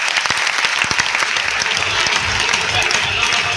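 Audience applause fills a hall at a motivational program, a dense, loud, steady clatter of many hands clapping together, with a voice faintly underneath.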